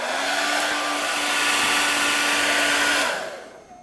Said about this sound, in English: Now I'm going to take hair dryer and dry this layer.